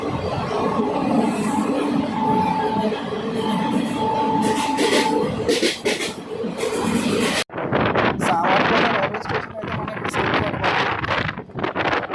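The Nagavalli Express runs at speed through Anaparthi railway station, with a loud continuous roar of wheels and wind rushing past, heard from on board and close up.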